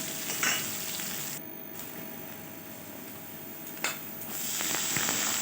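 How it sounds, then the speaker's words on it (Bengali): Chopped onions fry in hot oil, giving a continuous close hiss with occasional stirring clatter and a brief louder burst midway, with no voices. "এবার কেটে রাখা পেঁয়াজগুলো তেলের মধ্যে দিয়ে দিলাম পেঁয়াজগুলো একটু ভেজে নিতে হবে ভালোভাবে"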